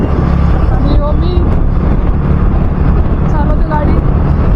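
A car speeds along a highway with a loud, continuous engine and road rumble and heavy wind buffeting, while voices speak over it.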